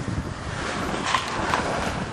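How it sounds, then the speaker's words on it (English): Strong wind gusting beneath a dump truck near snow, a steady broadband rush with buffeting on the microphone throughout, close and loud. "This wind is just blasting under here."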